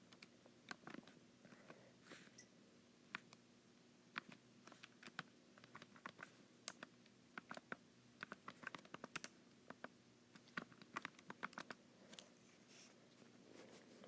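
Buttons tapped on a calculator, a quiet irregular series of small sharp clicks with short pauses between presses, close by in a silent room.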